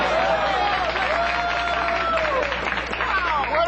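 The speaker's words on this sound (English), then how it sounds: "What are you cheering for?" A sitcom studio audience cheers and claps, a loud, dense wash of crowd noise with whoops rising over it, lasting throughout.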